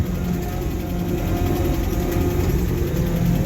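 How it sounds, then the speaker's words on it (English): A 1968 Land Rover Series IIa 88 petrol engine idles steadily with a continuous low rumble and a faint mechanical whine from the gearbox, close and constant throughout. "You get a fair amount of transmission noise out of it."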